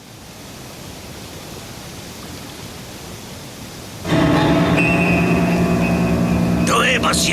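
A cartoon waterfall rushes as a steady broadband roar, softer at first, then jumping sharply louder and fuller partway through with a brief whooshing accent near the end, no voices over it.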